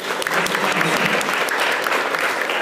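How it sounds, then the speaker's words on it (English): A university lecture hall audience gives a round of applause, thick and continuous clapping from many hands at close range, steady throughout the brief moment. "So, a round of applause again."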